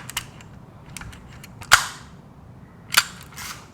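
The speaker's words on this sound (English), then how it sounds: "When I click, something opens and closes. That's the shutter." A camera shutter clicks open and closed on a camera with its lens removed, giving two sharp, close mechanical snaps about a second apart, plus a few softer handling clicks in a quiet room.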